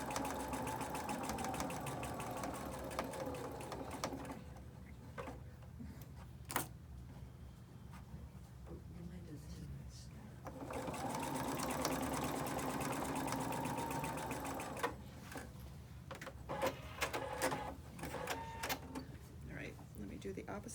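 A sewing machine stitches a quilt block up to a pin in two steady whirring runs separated by pauses, with a voice talking alongside.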